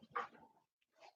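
A pet dog gives a short whimpering bark followed by a softer whine after a brief pause, close by and quiet, with no talk.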